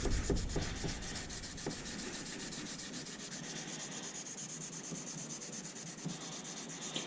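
Steady dry rubbing and scraping of sandpaper worked by hand along a steel knife blade, a continuous close abrasive rasp with slight rhythmic strokes, no talking.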